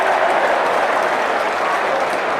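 Cricket crowd applauding after Mitchell Johnson's bouncer forces a top-edged pull, a loud sustained wash of clapping and crowd noise spread evenly across the stands with no letup.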